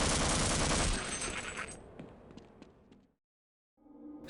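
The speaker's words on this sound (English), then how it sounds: "in the original version of the game this is actually an SMG" SMG fire in Half-Life, a dense loud burst of rapid shots for about a second, then fading echoes and scattered clicks before a short silence and a low rumble of game ambience.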